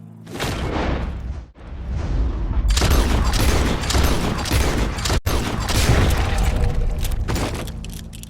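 Gunfire in the video game Red Dead Redemption 2: a loud, dense barrage of booming shots crowds the whole clip, with one brief pause early on and a sharp cut near the middle.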